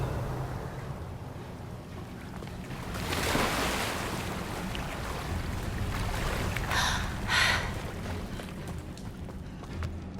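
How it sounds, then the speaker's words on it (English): Water bubbles and churns in Hogwarts Legacy, a continuous watery wash with a couple of louder surging swells, fairly close and with no voices. "Look, where the water's bubbling."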